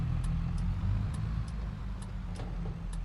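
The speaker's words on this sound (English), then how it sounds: "it's coming through the intersection, a cattle truck" A cattle truck drives past an intersection on a farm road, its low engine rumble steady and fairly close, with faint regular ticking like an indicator over the top.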